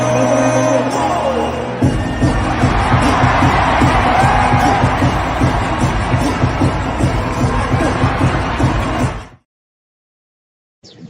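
A large live crowd roars and cheers loudly and continuously for about nine seconds, a dense wash of voices and whoops that cuts off abruptly into silence.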